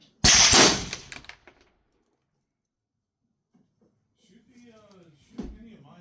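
An Armalite AR10B A4 rifle fires a single loud, sharp shot with a brief ringing tail, followed by a few seconds of quiet and then people talking.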